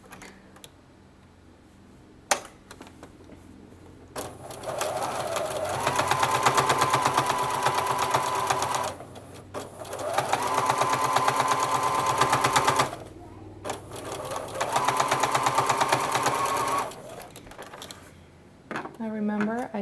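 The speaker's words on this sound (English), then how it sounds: "Next we're going to top stitch this part." Sewing machine top stitching a seam on a child's boxer brief, running in three steady mechanical stretches of several seconds each with brief pauses between; close and fairly loud, no talking over the stitching.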